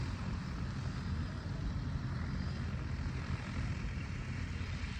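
A loud, steady engine drone with a propeller-like buzz from an agricultural spraying drone working over a cow pasture hums continuously, unchanging in level throughout.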